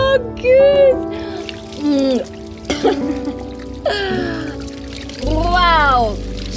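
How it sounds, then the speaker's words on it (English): Hot spring water poured from a bucket for a shower in Sri Lanka, several separate splashing pours with gaps between them, close by, mixed with bright chirping and people talking. "This is our bucket shower."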